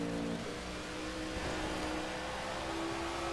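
A NASCAR stock car engine in the video game NASCAR 15 roars steadily at Richmond, its rough, uneven note sputtering and straining throughout, loud and close with no speech.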